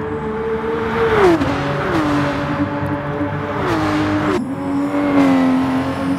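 Porsche 911 race car engines in the Gran Turismo Sport video game, a loud, continuous engine whine sweeping up and dropping with each gear change as cars run close together down a straight.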